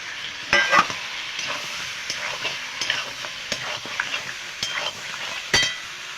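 Ground coriander and dried red chili paste sautéing in a pan give a constant close sizzle broken by sharp scraping strokes of a spatula against the metal, with no talking.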